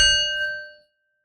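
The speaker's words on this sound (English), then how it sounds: "Let's begin with a bell." A single meditation bell struck once, a bright clear ding whose ringing overtones fade smoothly into silence within a second, close and alone.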